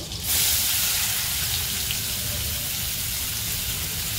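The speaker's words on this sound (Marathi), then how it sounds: "बटर आणि तेल घातलंय मी, थोडंसं गरम झालं की त्यामध्ये कांदा घालायचा।" Onion dropped into heated butter and oil, giving a steady broadband frying hiss that swells after a brief quieter start and holds evenly close up.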